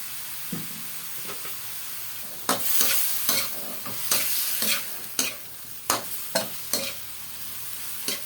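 Pork sizzles in a pan with a splash of soy sauce. Steady frying runs under a rhythmic series of sharp scrapes and knocks as a utensil stirs the meat, each stroke close and distinct. No speech.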